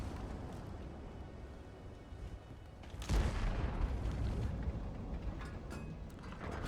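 Tank cannon shot in World of Tanks, one deep booming blast around three seconds in that rolls off slowly over steady engine rumble and faint battle noise, with no talking.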